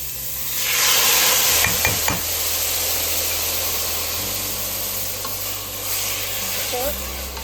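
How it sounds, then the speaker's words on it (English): Carrots for Korean bibimbap stirred in a hot frying pan, with a steady sizzle throughout and a few sharp scrapes and clinks of a utensil against the pan, loud and close. "Add our carrots. Give it a good stir."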